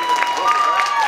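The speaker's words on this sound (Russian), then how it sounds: "ваши аплодисменты" An audience at a fashion collection show applauds in a short, steady burst of clapping, with a presenter's amplified voice talking over it.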